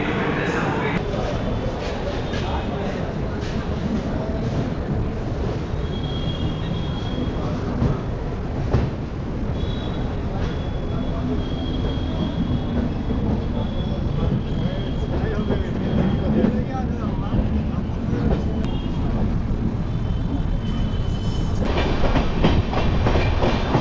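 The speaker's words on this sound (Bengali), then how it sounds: "ট্রেন ছেড়ে দিল আমাদের শালিমার রেলওয়ে স্টেশন থেকে।" The Sri Jagannath Express passenger train, number 18409, rolls steadily after pulling out of Shalimar railway station, with a constant heavy rumble and rhythmic wheel clatter heard from inside the coach, with faint murmur in the background.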